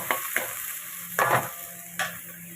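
Potatoes, radish and onion just added to a hot pan fry with a close, steady sizzle, broken by a few sharp bursts of stirring scrapes and clatter.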